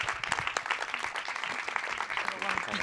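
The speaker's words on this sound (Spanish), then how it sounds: "Un aplauso." Audience applause after a film screening at a post-screening talk, a dense broadband wash of clapping over about three seconds with voices mixed in underneath.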